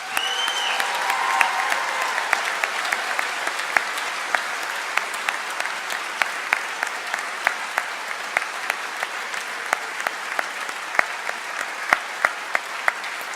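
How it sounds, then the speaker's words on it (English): Graduation convocation crowd applauding graduating students, dense sustained clapping from a large audience lasting over ten seconds, with individual sharp claps popping out close by. "Please join me in a round of applause for these students."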